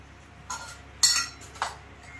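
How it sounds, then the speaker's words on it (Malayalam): Metal pan set down onto a kitchen stove to heat oil for frying cutlets, giving three short clanks spaced about half a second apart, the middle one loudest and brightest, close by in a quiet kitchen. "പാത്രം അതിലേക്ക് വെച്ചിട്ട്"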